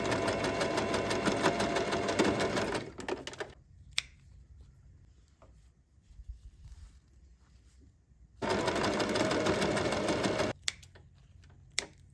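A sewing machine stitches tote bag panels in two loud, close bursts of rapid mechanical chatter of about three and two seconds, separated by quieter handling sounds and clicks.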